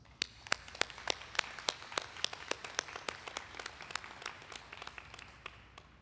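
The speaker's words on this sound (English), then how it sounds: "Join me in giving her a round of applause." Sparse, distant applause from a commencement ceremony audience, with individual claps ringing out in a loose, steady patter of soft, separate hits rather than a dense roar.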